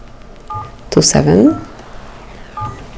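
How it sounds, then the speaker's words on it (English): DTMF keypad tones from a Nokia 3.1 phone dialer entering a secret code: a few short, clear beeps spaced apart, with someone talking over the middle of the sequence. "let's open the phone dialer and then enter a secret code"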